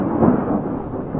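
Thunder rolls through a thunderstorm in a single loud, deep rumble lasting about a second, close and heavy, with no voices over it.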